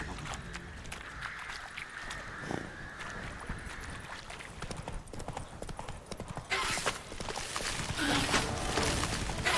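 Roach, a horse in Witcher 3, gallops with continuous rhythmic hoofbeats at a moderate level, accompanied by game ambience and a surge of wind or water noise toward the end.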